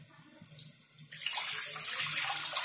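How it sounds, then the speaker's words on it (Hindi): Water pours with a steady splashing rush into a kadhai set up for steaming rawa dhokla, beginning faintly and then running loud and continuous for a couple of seconds. "अब हम कढ़ाई पे पानी गर्म करेंगे।"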